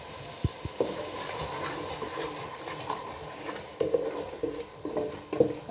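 Spice masala of red chilli, turmeric, salt and garam masala being stirred and roasted in a pan for aloo gajar salan: a spoon scrapes and taps against the pan with a light sizzle, scrapes clustering toward the end.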